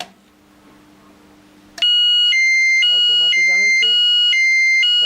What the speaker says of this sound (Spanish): Automáticamente salta la sirena y el flash.